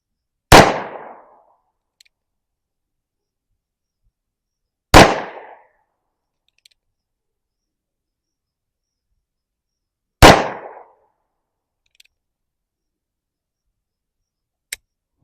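Three loud, sharp gunshots from a .22 Magnum Colt Peacemaker revolver at an outdoor range, spaced several seconds apart, each with a short decaying tail, plus a faint click near the end.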